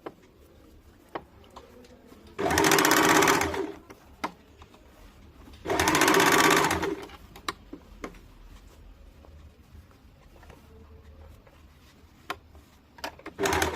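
A sewing machine stitches a strip onto a deep kurti neckline in two loud, steady whirring runs of a few seconds each, separated by quiet handling and faint clicks.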